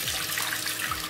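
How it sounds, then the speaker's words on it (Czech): Cold water runs steadily from a bathroom sink tap, a continuous close hiss and splash with no pauses and no voices over it. "Takže jdeme zase k umyvadlu. Pod studenou vodou."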